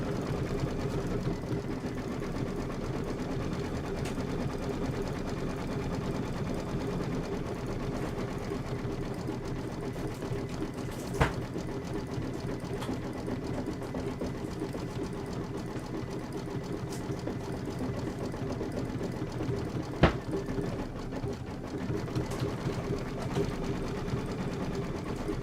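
A sewing machine stitches a Kimberbell Hello Sunshine appliqué block, giving a steady, continuous mechanical hum at an even level throughout, broken only by two sharp clicks.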